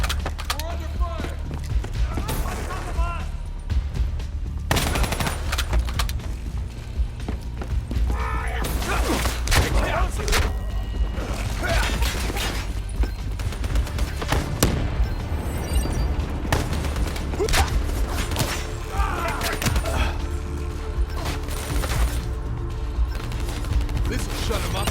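A video game battle roars with dense gunfire, rapid bursts and booms, and clanking mechanical noise packed across the whole stretch, with voices shouting over the fighting.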